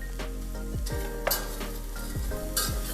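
Four or five garlic cloves and a sprinkle of paprika sizzle in a pan, a steady frying hiss with several scraping spoon strokes across the bottom.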